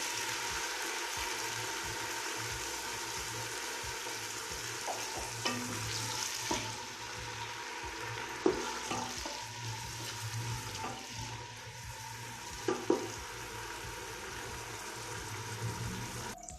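Four medium onions frying in hot oil while making mutton karahi, a steady broadband sizzle throughout with occasional stirring clatters, close and even, no talking.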